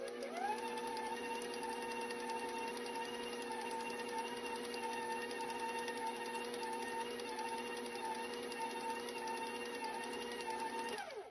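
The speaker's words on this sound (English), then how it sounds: "I'm going to mix this a little longer to combine the not mixed in ingredients." An electric mixer beats oatmeal chocolate chip cookie bar dough in a bowl, a steady whirring motor hum with a tonal whine, close and even throughout, stopping at the end.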